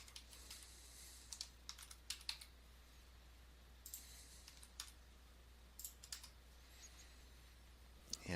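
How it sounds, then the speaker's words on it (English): Numbers are keyed into a calculator as quiet plastic button clicks come in small irregular bursts, faint and close against a low steady background hum. "I type it in just like it's shown here"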